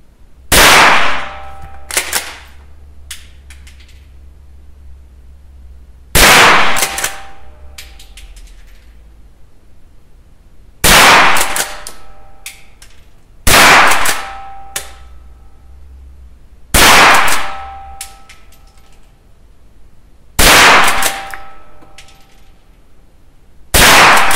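Rossi Mle 62 revolver shots fired at a steel target: six loud, sharp reports spaced a few seconds apart, each followed by a ringing metallic clang that decays away. No talking.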